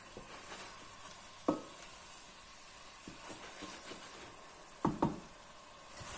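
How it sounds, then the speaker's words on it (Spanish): Crushed tomato frying in a pan for a pork rib stew, a low steady sizzle broken by occasional stirring scrapes and a few louder knocks of a utensil against the pan, quiet and close, no talking. "Le hemos dado ya unas vueltas al tomate"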